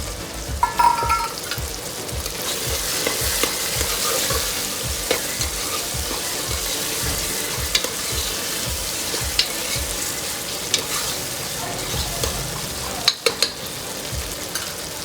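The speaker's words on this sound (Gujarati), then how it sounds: "તો હવે આપણે એમાં બટેટા નાખી દઈશું." Tomatoes and potatoes frying in a pan, cooking for a Kathiyawadi veg pulao, give a steady close sizzle with repeated rhythmic scrapes and stirs of a spoon throughout, and no talking.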